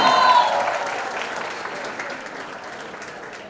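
Audience applause at a college fest at Thakur College, a loud burst of clapping that gradually fades over a few seconds, with some crowd noise underneath.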